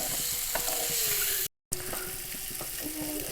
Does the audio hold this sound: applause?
no